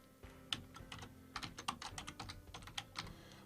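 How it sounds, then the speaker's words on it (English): Typing on a computer keyboard while entering text into a PowerPoint 365 shape, a quick irregular run of crisp key clicks, close and clear against a quiet background with no talk. "I just click within it and start typing."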